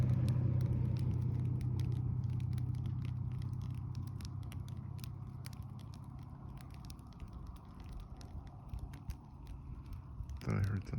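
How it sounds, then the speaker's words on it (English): A car rumbles nearby at a campsite in the Lake Louise area of Alaska, a low drone fading over several seconds under scattered faint clicks and crackles. "I think it was the car"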